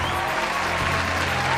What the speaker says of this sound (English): another round of applause from the congregation